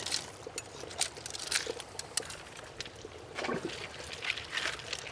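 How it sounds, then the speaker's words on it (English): Water trickling and splashing among large boulders along a rocky stream, a steady soft burble with small brighter gurgles, close by and fairly quiet, with no voices. "we got a little bit of water flowing through here"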